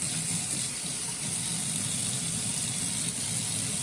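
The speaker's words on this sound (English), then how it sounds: "the scrubber is definitely working because dirty water is splashing everywhere" Water from a kitchen sink tap runs steadily while a potato is scrubbed, a constant close hiss with no voices.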